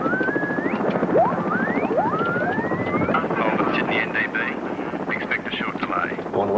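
A rescue helicopter flies over Sydney, its steady rotor drone and whine running throughout beneath continuous voices speaking over it.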